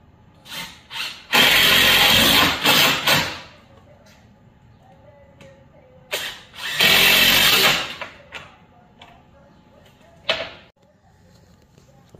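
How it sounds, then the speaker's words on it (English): A power drill with a self-centering bit pre-drills holes in wood trim, whirring in two loud bursts of a few seconds each, with short spins and light knocks between and a final brief burst. "I'm using a self-centering drill bit."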